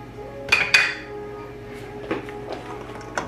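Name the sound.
cast iron pan handled on the stove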